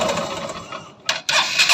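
A Honda Shine motorcycle engine, fitted with a new timing chain and recently reworked with piston parts, runs close up with a rough, rattling chatter that drops briefly before surging back louder.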